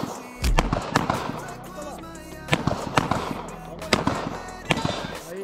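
Firearm shots at an outdoor shooting session, a first-time shooter firing: several loud sharp bangs spaced about a second apart, with people talking around them.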